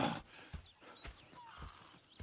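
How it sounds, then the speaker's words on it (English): Horses in the Red Dead Redemption 2 game world, heard as a few soft hoof clops and shuffling steps at moderate distance, fairly quiet with no talk over them. "Go check the horses are ready."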